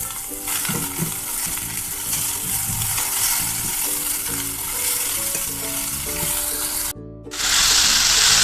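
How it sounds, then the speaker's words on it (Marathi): Chopped ivy gourd hits a hot pan with a loud, steady sizzle and some stirring, then a sharper burst of frying near the end, no voices. "आता आपली कापलेली भाजी टाकूया."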